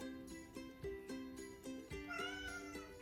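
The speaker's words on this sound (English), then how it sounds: "And you can hear my kitty." A pet cat indoors at home meows a few times, the cries drawn out and rising, set against a steady tonal background with recurring pulses.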